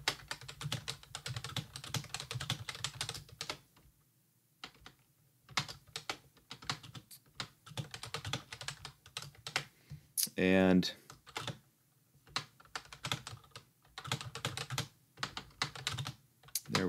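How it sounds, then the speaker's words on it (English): Rapid computer keyboard typing while composing an online poll, steady clatter of keystrokes with short pauses, someone briefly speaking over it. "Almost done typing out this poll."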